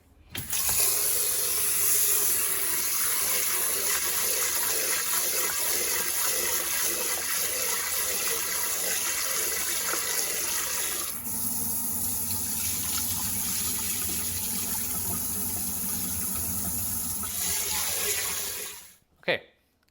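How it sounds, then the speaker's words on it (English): Short grain rice washed under a running sink tap for sushi, a loud, close gush of water that shifts in tone partway through and stops abruptly near the end, with a final clunk. "The first thing you need to do is you need to wash the rice."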